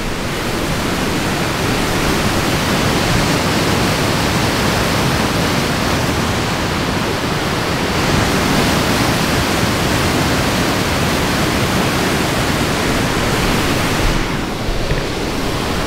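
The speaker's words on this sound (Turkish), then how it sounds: "Palavut Şelalesi'ne giderken yol üstünde böyle muhtemelen şelaleden gelen su ama inanılmaz akıyor." Water from a mountain waterfall rushes fiercely along a roadside in Rize, Turkey, on the way to Palovit Waterfall: a loud, steady, broadband roar of flowing water filling the whole span with no letup.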